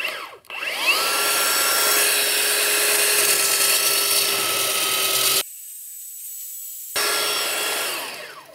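Cordless sander on deck boards running continuously with the trigger locked, a high steady whine that spins up, holds, briefly cuts to a quieter tone, then returns and winds down.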